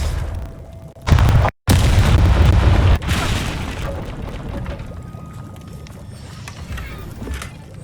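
In the Hogwarts Legacy video game, the Confringo spell explodes with a loud booming blast and a sudden cut, followed by another heavy burst and then a fading rumbling tail.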